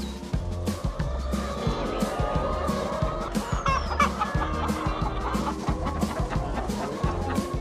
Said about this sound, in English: The hens were able to roam freely in and outside the coop